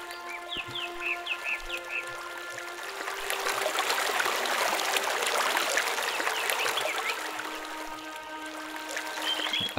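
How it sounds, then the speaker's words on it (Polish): Water flows steadily in the Gothic 2 video game, a soft continuous trickle that swells in the middle, with bird chirps scattered over it. "Tutaj też jest woda."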